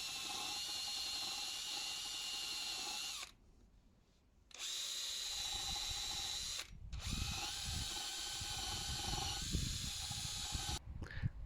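Power-driven wire brush scouring the rear brake drum of a Honda XL 600 Transalp motorcycle, a harsh high-pitched whir and hiss running in long bursts, broken by two short pauses, with scraping grit under it.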